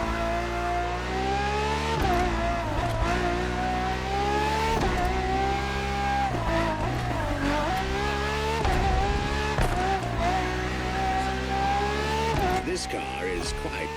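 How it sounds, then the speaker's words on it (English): Ferrari FXX K supercar racing in The Crew Motorfest, a loud continuous engine drone with rising and falling revs through gear shifts and occasional tire squeal, with talk running over it. "For this second lap, you'll be driving the FXXK."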